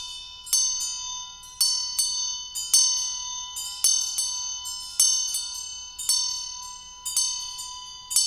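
A ritual bell rings during Chod chanting, struck in a steady repeating rhythm of roughly one strike per second. Each bright metallic ring decays before the next, close and clear, with no voices.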